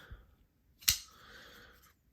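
A Reate Horizon D folding knife clicks from blade play. A faint tap is followed by one sharp, close click that rings briefly, quiet and isolated.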